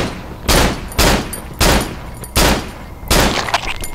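Gunfire in the horror video game Cry of Fear: five or six sharp, loud shots in an uneven rhythm, each one cracking out and ringing briefly before the next, with no voices.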